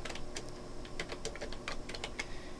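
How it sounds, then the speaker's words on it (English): Typing on a computer keyboard: a quick, close run of light key clicks at an uneven rhythm, faint and alone with no voice over it. "Let's go ahead and just type in"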